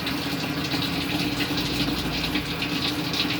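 An Ative washing machine fills with water during its self-test, a steady rushing gush that runs unbroken and fairly close throughout, with no talk over it.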